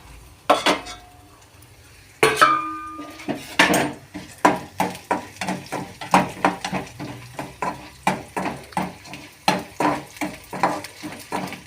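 Chana dal and split urad dal fry in oil in a pan for puli kuzhambu, with a faint sizzle under a steady run of sharp, rhythmic clinks and scrapes as the spoon stirs against the metal.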